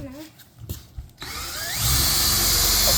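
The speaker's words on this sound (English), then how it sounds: "So first we're going to drill a hole and a countersink." A power drill bores a hole and countersink, switching on after some early talk and handling noise, then whirring loudly and steadily close by.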